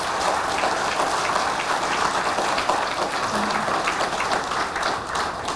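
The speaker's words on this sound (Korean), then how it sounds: "여러분 박수를 한번 보내주십시오." Sustained audience applause fills a lecture hall at a Buddhist monk's touring lecture in the United States, a steady dense patter of many hands clapping at close range, loud and unbroken for several seconds.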